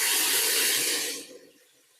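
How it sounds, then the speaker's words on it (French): Broth poured into a pot of artichoke soup vegetables, a loud, bright splashing rush that runs for about a second before trailing off into quiet. "on va venir verser notre bouillon dans tout ça"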